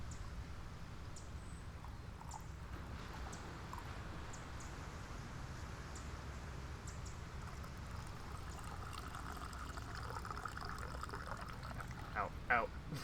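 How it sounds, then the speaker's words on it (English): Coffee being poured into a cup, a soft steady liquid trickle with hot splashes spilling over the edge, faint and close, over a low background hum. "let me just pour myself a coffee here real quick"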